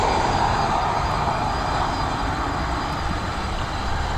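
A Lauda jet airliner departing from runway 10R at Dublin Airport gives off a steady, loud, broad engine roar that holds constant for the whole stretch with no voices over it.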